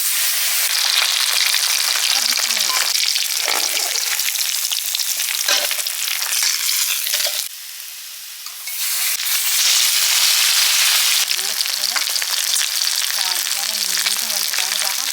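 Pieces of bhangan fish sizzle steadily in hot oil, a dense continuous crackle with occasional faint scraping, briefly softening for a moment midway before the full hiss returns.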